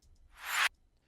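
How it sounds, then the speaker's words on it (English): A reversed glass sample used as a drum layer swells up as a bright, hissy rising whoosh and then cuts off abruptly, a single short isolated sound. "the first layer I went ahead and put in here was a reverse glass sample that sounds like this."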